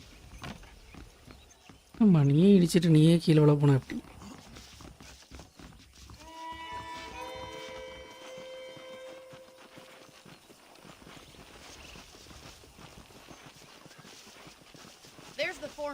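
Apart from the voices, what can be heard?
horse hoofbeats from the video game Red Dead Redemption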